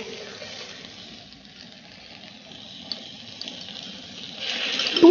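Water runs from a tap in a kitchen, a soft, steady trickle that swells near the end, with no talking.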